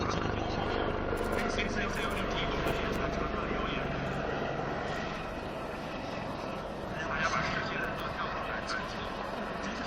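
A Z-19 helicopter flying at an aerobatic display during the Tianjin Helicopter Expo produces a steady, loud rotor and engine roar that swells and eases slightly, with a commentator's voice over it.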